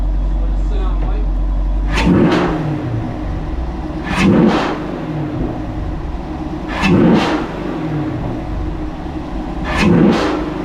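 A 2019 Camaro SS V8 fitted with a Roto-fab cold air intake and dry filter revs up four times in sharp, evenly spaced bursts over a steady rumbling idle, loud and close.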